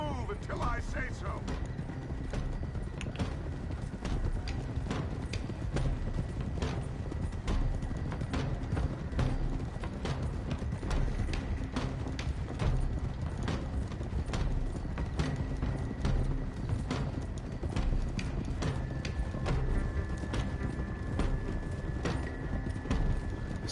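Horses gallop in Red Dead Redemption 2 with a continuous, rhythmic clip-clop of hooves beneath voices talking.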